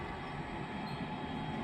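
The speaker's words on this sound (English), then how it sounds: "So that train that you've just seen going down has come up on those tracks" A train runs on tracks in a steady, close rumble with a broad rushing roar and a faint high squeal, continuous and even throughout.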